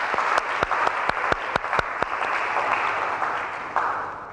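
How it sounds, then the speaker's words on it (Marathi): An audience claps to praise a literacy effort, a broad wash of applause with a few sharp, close individual claps standing out over the steady crowd sound. "या खटपटीचं आपण टाळ्या वाजवून कौतुक करूया."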